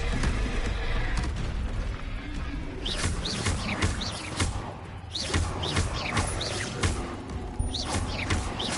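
Confringo spell blasts in Hogwarts Legacy come as repeated whooshing bursts and crackling impacts over a dense, busy game soundscape with chirping effects.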